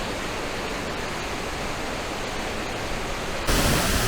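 The waterfalls at Kawazu Seven Waterfalls in Japan give a dense, even roar of falling water that carries on without a break and grows briefly louder at the end.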